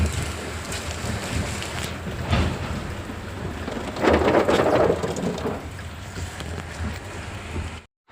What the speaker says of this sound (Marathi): पाऊस खूप जोरात आला आहे